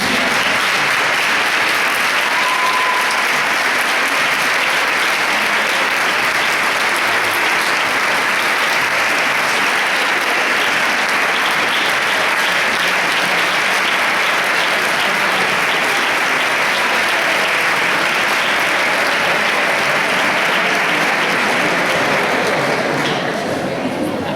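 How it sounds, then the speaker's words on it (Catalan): A large audience claps steadily and loudly for over twenty seconds at a musicians' festival, a dense, even wash of applause without pause. "Un fort aplaudiment."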